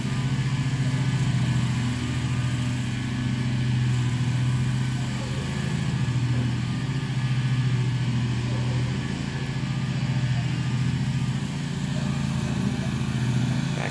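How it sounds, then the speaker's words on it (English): A lawn being mowed across the way while leaf blowers run nearby: a steady, droning motor hum holds without break throughout, moderately loud and slightly distant, with faint speech mixed underneath. "Got the lawn being cut across the way. Guys with leaf blowers."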